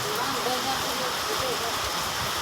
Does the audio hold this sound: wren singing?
no